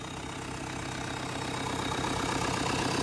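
A Yuchai 4108 diesel engine idles smoothly with an even, continuous rumbling chug, close and steady throughout the short stretch.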